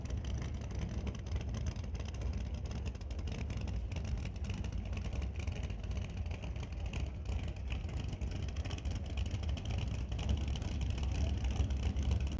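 A big block Chevrolet nitrous engine in a '67 Camaro drag car makes a steady, loud low rumble at a drag strip, continuous broadband roar without clear revving peaks.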